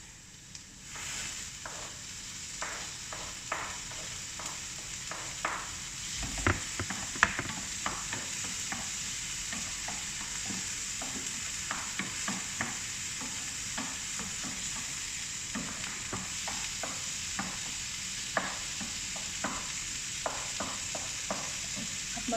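Chopped tomatoes sizzle steadily in a hot frying pan for a tuna breakfast dish, with a spoon or spatula scraping and clicking against the pan in irregular stirring strokes throughout.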